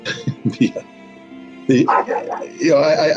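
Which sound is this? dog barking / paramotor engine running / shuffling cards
dog barking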